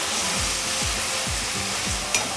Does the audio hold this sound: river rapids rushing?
no